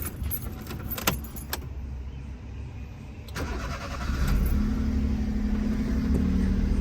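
A car's keys jangle and click in the ignition, then the engine cranks and catches, settling into a steady, close idle hum with no talking.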